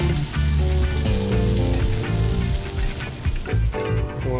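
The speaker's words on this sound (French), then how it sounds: "On arrose généreusement la sole." A sole fried in a pan and generously basted, giving a loud, close, continuous sizzle and spatter of hot fat that eases slightly toward the end.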